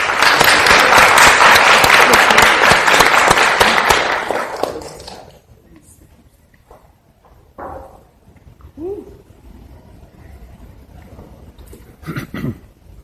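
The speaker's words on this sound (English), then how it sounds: "please give a round of applause to Benajmin" An audience applauds the speaker Benajmin at a university lecture hall, with loud dense clapping for about four seconds that fades out, followed by quiet room noise, a few thumps and brief voices.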